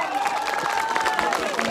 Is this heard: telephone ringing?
no